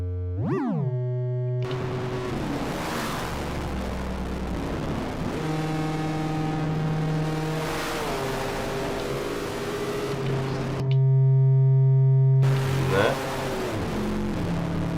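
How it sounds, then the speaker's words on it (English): Modular synth wave folder run through filters, feedback and distortion, giving loud, buzzing harmonic drones that step between pitches and sweep up and down, with a brief silent gap before a thick low tone swells in. "That is my wave folder with filters, feedback, and distortion."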